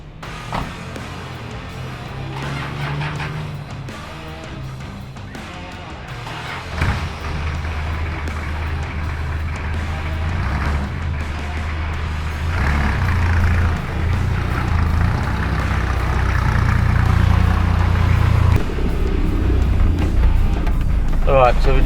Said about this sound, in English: we'll take it for a bit of a drive, and I'll show you 0 to 100, see how that goes